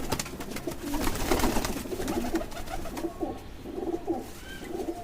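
Domestic pigeons, including a nesting female, coo in soft repeated low phrases across the whole stretch, with faint rustling and other birds chirping in the background.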